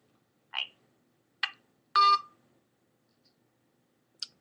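A phone being dialed to call someone back gives a few short electronic tones spaced about a second apart, one longer and stronger tone in the middle, then a final faint beep, close and clear in an otherwise quiet room.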